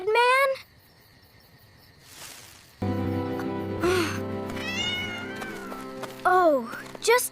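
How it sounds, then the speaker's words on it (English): Several loud, close cat meows, drawn-out and rising in pitch, separated by quiet stretches with a tonal musical backdrop underneath. "Oh, just a cat."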